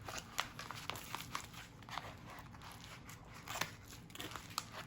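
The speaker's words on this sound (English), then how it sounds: "So, let me get my scissors out." Scissors cut open packaging during an unboxing of a Nano. Faint, close crisp snips and crinkles repeat irregularly over low background noise.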